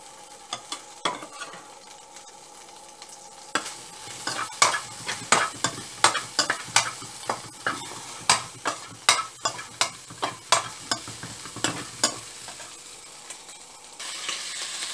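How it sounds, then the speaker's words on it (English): Prawns frying in a little oil in a pan, with a steady sizzle under a run of sharp, rhythmic spatula clacks as the pan is stirred, close and fairly loud. "I'm going to fry the prawns in little oil"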